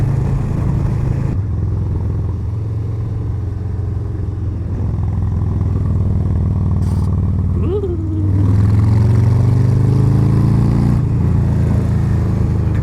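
A 2020 Harley-Davidson FXLR engine rumbles steadily while riding out of a curve, then opens up into a louder, rising acceleration with climbing revs near the end, heard up close from the rider's position.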